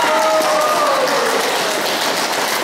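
An audience at a volunteer charity event applauds as a dense, steady wash of clapping, with a brief voice sounding under it at the start.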